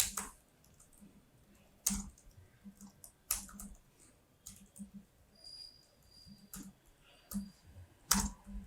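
A computer keyboard clicks out JavaScript code in sparse, irregular keystrokes, soft and close, with quiet gaps between taps.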